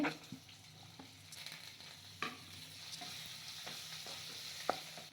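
Urad dal, garlic cloves and onions fry and get stirred in a pan for a tamarind chutney, giving a soft, steady sizzle with a few light scrapes and taps, faint and without speech.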